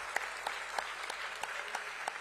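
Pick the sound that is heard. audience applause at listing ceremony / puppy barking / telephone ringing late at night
audience applause at listing ceremony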